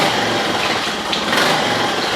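A Honda 2 hp outboard motor runs steadily after being started with one pull of the starter rope, a loud, continuous buzzing engine drone with no pauses.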